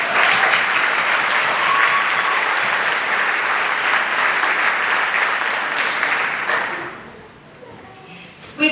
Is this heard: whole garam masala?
no